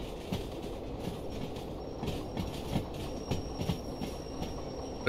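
A train brakes in the Derail Valley simulator game while shunting with steam: a steady, moderate rolling rumble with scattered rhythmic clacks and a faint high squeal running through the second half, with no talk.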